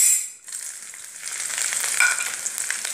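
Chopped green chilies drop into hot oil with a sharp, steady sizzle that swells after a brief lull and holds loud and close throughout, with no voices.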